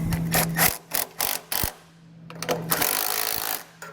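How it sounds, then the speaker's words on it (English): Ratcheting 17 mm socket wrench snugging bolts on a trailer hitch receiver under a 2020 Chevrolet Traverse, with bursts of quick mechanical clicking in several short runs, close and moderately loud, no talking. "we'll come back with the 17 millimeter and snug them down"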